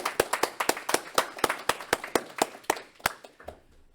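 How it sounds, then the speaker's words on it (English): A small audience at a game-jam showcase claps, sharp and close. The claps come at a loose, steady rhythm at first, then thin out into a few scattered final claps within four seconds. "Round of applause for Dave"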